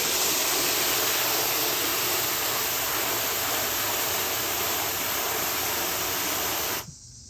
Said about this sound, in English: add some water here to foam it up some and see what it looks like.